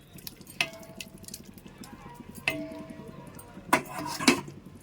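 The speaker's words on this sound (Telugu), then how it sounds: "ఇలా ఒకసారి వేసేసుకొని మొత్తం ఇలాగా బాగా కలిపేసుకోవాలి" A paneer mixture is stirred into tomato masala in a pan for paneer dum biryani. A metal spoon clinks sharply against the pan three or four times amid soft scraping and faint sizzling, close and fairly quiet.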